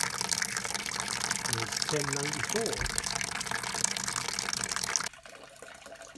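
Hot water at 77 degrees C running steadily while sparging a homebrew beer mash for a pale ale, a continuous splashing gush under someone talking that stops abruptly near the end.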